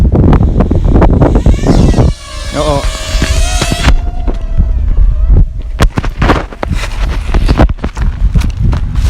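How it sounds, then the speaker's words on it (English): Strong gusts buffet the microphone with heavy, roaring rumble throughout, broken by a brief whirring tone from a DJI Tello drone and scattered knocks. "Very windy."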